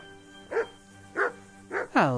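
A dog in the medieval Bohemian countryside of Kingdom Come: Deliverance barks four times at a steady pace, each bark close and clear. The last bark is longer and more whining.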